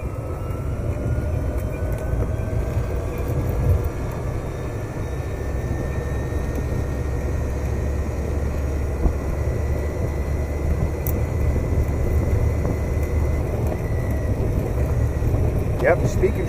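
A 2002 Gem electric golf cart fitted with a new motor and standard tires pulls away and accelerates, giving a rising electric whine over steady road and wind rumble, continuous and fairly close.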